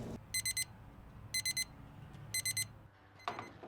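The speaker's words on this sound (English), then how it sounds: "The buzzer went off, therefore our brisket has to be at least 193." A meat thermometer alarm sounding while a beef brisket cooks on a BBQ, three bursts of rapid quadruple electronic beeps repeating at regular intervals, clear and close, followed by a short clunk.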